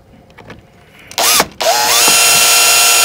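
A drill driver runs in short bursts then a sustained whine while sinking small screws, loud and close, with a motor pitch rising as it spins up.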